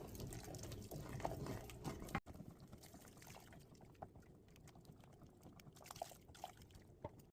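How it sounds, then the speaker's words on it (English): Beef bouillon poured into a pan of Swedish meatballs with creamy mushroom gravy, a soft liquid pour and trickle that is louder over the first two seconds and then quieter, with faint clinks and a final knock. "we want to add 2 cups of beef bouillon, just adding a little at a time"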